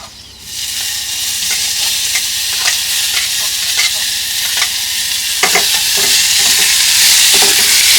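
Chopped vegetable pieces coated in turmeric fry loudly in a pan, a dense, close sizzle running throughout, punctuated by repeated scraping strokes of a spoon stirring them.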